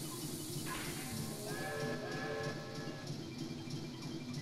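A train running in the video game Banjo-Tooie, a steady rumbling chug with tonal whistle-like hums layered over it, held at an even loudness throughout.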